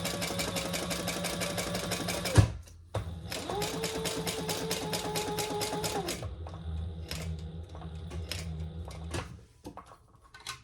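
A sewing machine stitches around a zipper on a clutch bag in rapid steady bursts, pausing briefly, running again, then slowing to a lighter, sparser run of stitches, close and fairly quiet.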